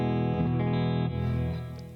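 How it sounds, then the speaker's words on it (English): Electric guitar through a NUX Mighty Air modelling a Roland Jazz Chorus clean amp, sustained chords ringing loud with a chorus shimmer and reverb, fading slightly toward the end. "It has your twin reverb, and then has their Roland Jazz chorus, which is very kind of clean sound."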